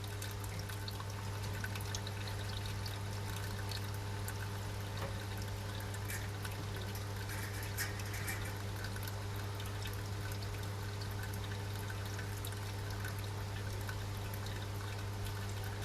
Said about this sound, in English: Not much of a sparge, I'll grant you that, but it is a sparge nonetheless.